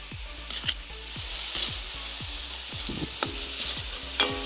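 Tomatoes sautéing in a pan for a Jaffna-style banana flower fry, a soft steady sizzle with repeated regular stirring strokes and occasional spoon taps against the pan.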